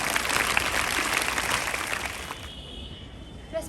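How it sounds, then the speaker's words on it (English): An audience at a school Children's Day assembly applauds a grade 8 student speaker. Dense, steady clapping runs for a couple of seconds and then trails off into quiet. "A big hand clap for her."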